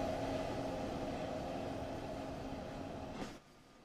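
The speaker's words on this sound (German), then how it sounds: "wenn ihr so einen Regionalzug hier rüberfährt" A regional train in Train Sim World 2 rolls along with a steady rumble and rail noise, fairly loud and alone, fading abruptly near the end.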